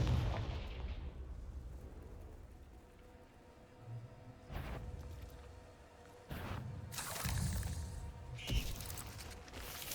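Explosive Confringo fire-spell blasts in the Hogwarts Legacy video game: several sharp, loud bursts at irregular intervals over a low rumbling background of game ambience.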